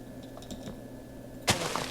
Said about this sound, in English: Sorry if my keyboard is super loud.